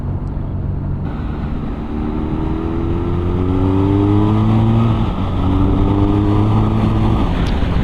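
2021 BMW R nineT boxer-twin motorcycle accelerating hard through gears, its close engine note climbing in repeated sweeps with brief dips at shifts, loud and steady without speech.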